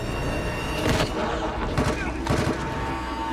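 Gunfire from a TV drama's battle scene, with several sharp broadband shots at roughly 0.9, 1.8 and 2.3 seconds standing out over a dense, continuous din of action audio.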